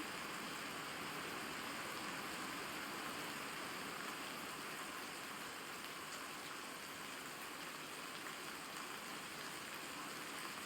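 Heavy rain falling outdoors, a dense, even roar of drops that holds steady throughout without any speech.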